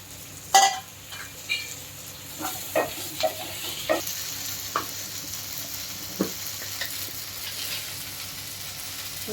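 Okra is added to a hot tempering of spices for bendakaya pulusu and fries with a soft, continuous sizzle. Sharp clinks and scrapes from a spoon on the pan recur every second or so.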